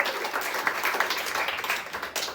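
Comedy club audience in New York clapping for a contestant, a steady dense patter of many hands at close range, with no talk on top.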